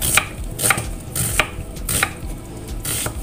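An onion sliced with a knife on a cutting board, a run of five or six crisp cuts at a steady, unhurried pace, close and clear with no talking.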